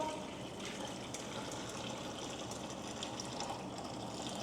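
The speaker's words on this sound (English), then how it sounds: "Now I'm just adding water. I am using the kettle because it was there." Water pours from a kettle into a pot, a steady, close splashing stream that runs without pause for a few seconds, with no talk over it.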